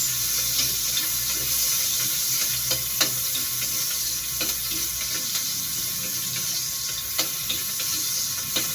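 Onion sautéing with chicken breast pieces in a pan, a constant hissing sizzle with occasional soft clicks and scrapes of a stirring utensil, steady and close with no talking.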